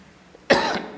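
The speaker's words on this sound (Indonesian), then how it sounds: "Mohon maaf nih, saya lagi batuk." A single sharp cough from a man, close and abrupt, cutting through a quiet room and trailing off over half a second.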